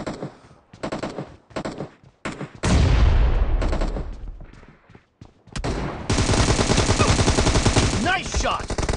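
Automatic gunfire from PUBG Mobile team deathmatch on an iPad: short choppy bursts at first, then loud, sustained rapid fire that rattles on almost continuously to the end.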